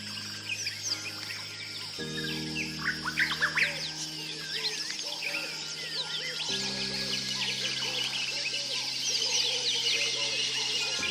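Birds calling in Zululand coastal forest in South Africa: many chirps, tweets and trills overlapping at close and middle distance over a steady low hum, with no talk.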